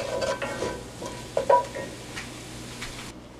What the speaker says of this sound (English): I wanted to give the olives and pears a little time in the skillet so the flavors could gel and mellow